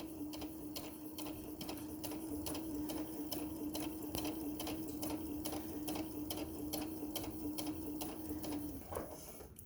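A sewing machine back stitching along the edge of a tote bag runs in a steady, rapid mechanical chatter with an even hum, close and alone, then slows and stops near the end.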